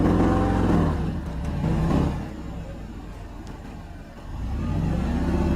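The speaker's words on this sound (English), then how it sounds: "The Range Rover actively rolls with all four wheels, unlike any other contestants of the second stage" A Range Rover SUV grinds off-road on a test course with all four wheels pulling, its engine rising and falling in loud revving surges, dipping in the middle before climbing again, close and without voices.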